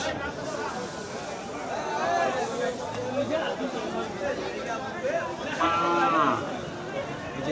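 Cattle at a village cattle market in Madarganj, Thakurgaon, with a moo or two rising over a steady hubbub of crowd chatter and nearby talk.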